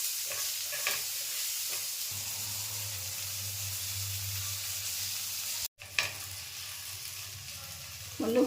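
Vegetables with turmeric and a little sugar frying in a pan, a continuous close sizzle and hiss with occasional stirring scrapes and a brief dropout near the end.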